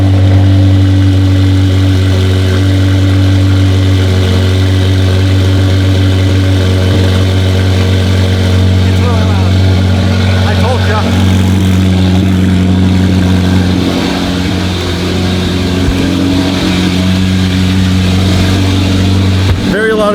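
Twin-turbo Lamborghini Huracan V10 idling after a cold start, a loud, steady, deep engine drone with a strong low hum and slight rises in pitch, running alone throughout.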